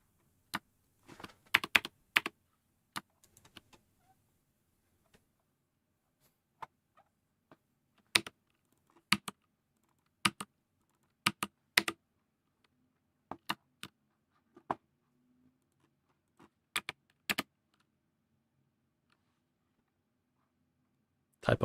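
Keystrokes on a computer keyboard while someone writes code, arriving in scattered bursts and short flurries with long quiet gaps between them, crisp and close, with no voices.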